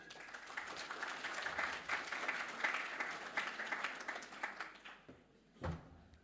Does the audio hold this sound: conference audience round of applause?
yes